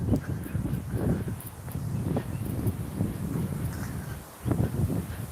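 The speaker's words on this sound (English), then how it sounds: "Oh, it's a bit windy down here" Low, blustery wind rumble in Sydney buffets the microphone in uneven gusts, steady throughout with a brief dip near the end.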